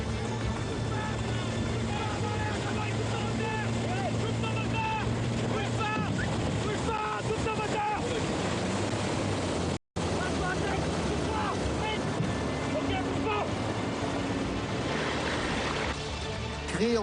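Gendarmerie intervention jet skis run over rough waves, their engines droning continuously under heavy wind buffeting and splashing water, with a brief cut near the middle and a voice talking over the scene.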